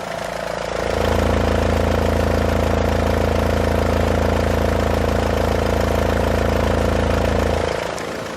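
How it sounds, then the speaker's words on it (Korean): Mercedes-Benz E-Class E220 diesel engine idling with the hood open in the engine bay, a steady, even low hum with a faint clatter that holds constant, close and moderately loud. "디젤 엔진을 갖고 있지만 역시 벤츠의 명성답게 디젤 치고는 조용한 엔진음을 들려주고 있습니다"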